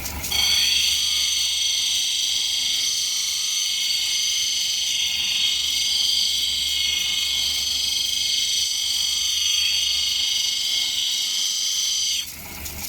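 A large Ethiopian opal is ground against a spinning cutting wheel, giving a steady, loud, high whine that runs unbroken for about twelve seconds before cutting off, with no voices.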